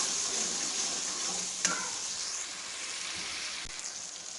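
Tomatoes with garlic and ginger paste frying in a pan, a steady close sizzle with crackling hiss and occasional scrapes and clinks of a spoon stirring, no talking.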